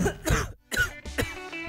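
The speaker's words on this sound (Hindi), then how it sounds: "अरे इतनी खांसी, खांस खांस के सीना जकड़ गया, लेकिन खांसी नहीं गई।" A person coughs in several harsh, rough bursts, with short gaps between fits and a throat-clearing rasp, close and fairly loud with no talking.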